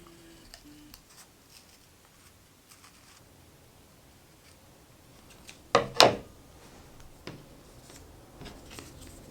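Scissors snipping through Leukotape athletic tape, a quick pair of crisp cuts close by in an otherwise quiet room, with faint rustling of the tape before and after.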